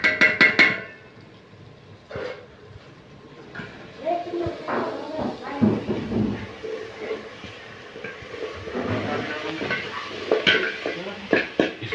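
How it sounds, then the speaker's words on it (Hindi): A spoon stirs masala into aloo methi frying in a pan, scraping and clinking against the metal under a steady sizzle, with a louder clatter of cookware at the start and near the end. "मसाला जो निकाला था इसमें मसाला डाल देंगे"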